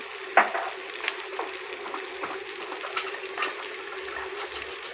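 Liver and spinach frying in a pan with poppy seed powder, a steady close sizzle with occasional stirring scrapes and small bursts, no talk.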